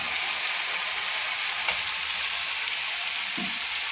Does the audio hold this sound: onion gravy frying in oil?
yes